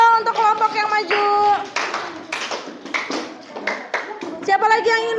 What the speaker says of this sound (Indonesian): Kasih tepuk tangan dong untuk kelompok yang maju.